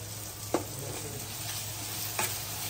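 Green paste frying in oil with cooked onion and tomato, a soft steady sizzle with a couple of sharp stirring scrapes, no voices.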